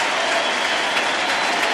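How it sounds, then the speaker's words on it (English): Loud, continuous applause fills Nationals Park as a baseball crowd gives a departing pitcher an ovation during an NLDS playoff game, steady and uninterrupted from start to finish. "Receives a nice ovation from the crowd here at Nationals Park."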